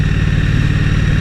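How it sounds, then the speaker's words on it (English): A Triumph Street Cup motorcycle engine running loud and close on a countryside ride, a steady throbbing pulse with no pauses and no voices. "I have a very large erection over the sound of this motorcycle."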